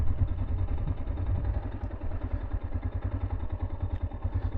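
A Tekken 250 motorcycle engine idles with a close, steady, rapid putter while the gearbox is shifted into neutral, and no one speaks over it.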